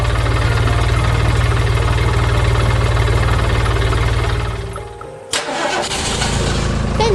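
A heavy truck engine rumbles loudly, briefly cuts out, then catches and restarts with a sharp burst before settling back into a steady running roar.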